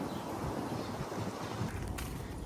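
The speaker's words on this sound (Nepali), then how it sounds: "अच्छु हावा पो चल्यो त हो अहिले त।" Gusty outdoor wind buffets the microphone with a continuous low, rumbling roar and a slight rise and fall in strength, with no voices.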